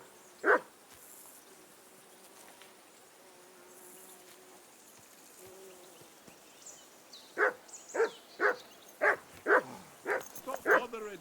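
A dog barks in Kingdom Come Deliverance 2: one bark early, then after a lull a quick run of about seven sharp barks in a steady rhythm, moderately loud and close.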